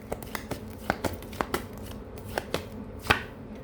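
Tarot cards being shuffled by hand, with soft, quick riffles and light taps at an irregular rhythm, close and fairly quiet.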